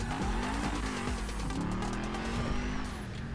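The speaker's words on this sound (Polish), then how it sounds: "To auto brzmi teraz absolutnie niesamowicie." An unlicensed sports car in the video game GTA Online revs close and loud, its engine pitch sweeping up and down between gear changes, with tire squeal mixed in and no talking.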